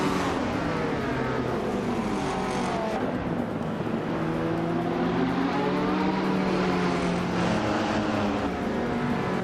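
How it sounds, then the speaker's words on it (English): Engines roar with rising and falling pitch as race cars, including a classic 1983 Porsche 911 930 Turbo, launch off the starting line, a loud continuous revving blend with no talking. "Ebony Shadow has shot off the line to take the lead"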